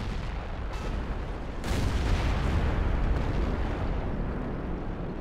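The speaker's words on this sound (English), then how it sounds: "I do believe that's a T-57 heavy shooting me" Cannon of a T-57 heavy tank firing in World of Tanks, a deep booming shot that rises out of steady engine and battle rumble, followed by a sustained roar that slowly settles.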